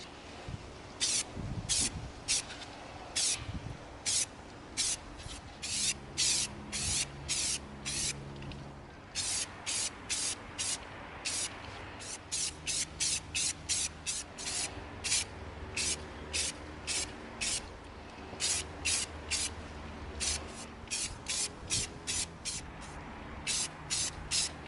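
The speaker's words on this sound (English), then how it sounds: "Now we're going to spray the whole rest of this with our awesome gloss deep blue." Repeated short bursts of an aerosol can spraying gloss deep blue paint onto an EVA foam raygun prop, hissing on and off in an irregular rhythm, close and fairly loud, with no talking.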